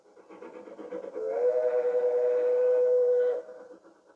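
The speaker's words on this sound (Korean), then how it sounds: "개울을 건넌 앨리스는 어느새 기차에 타고 있었어요" A steam whistle blows loud and sustained for about two seconds, rising in and cutting off sharply, with rail noise underneath.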